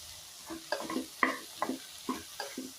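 Tomato masala for a bitter gourd sabzi roasts in a pan, heard as a quiet series of rhythmic spatula scrapes, about two per second, over a faint sizzle with no voices.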